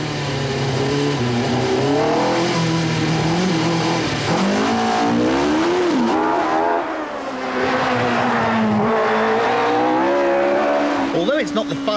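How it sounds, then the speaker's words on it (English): A race car warms its tyres at the start of a British hill climb championship event, engine revving up and down with shifting pitch and tyres squealing, loud and close under a narrator's voice. "the drivers attempt to warm their tyres for better grip"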